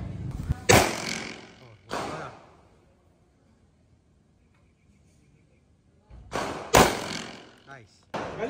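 A toy arrow fired at a target gives two sharp, close thuds separated by a pause, each followed by a short rattle, with people talking around them.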